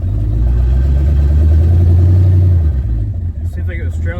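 A big-block twin-turbo Ford Fairmont engine rumbles loudly and steadily on a test drive, a deep low drone that holds for a few seconds, then eases off with lighter rattling noises.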